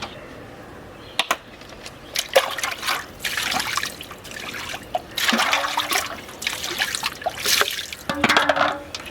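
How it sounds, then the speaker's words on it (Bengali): Face being washed with water, irregular splashes and trickling with runs of dripping and pouring, close and moderately loud, with no talk. "মুখ ধোয়া হয়ে গেছে আমার, আর মুছে নিচ্ছি এখন ভালোভাবে।"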